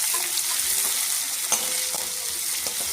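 Garlic, green chillies and chopped onion fry in hot oil with a steady close sizzle, broken by a few soft stirring clicks and scrapes, with no talk.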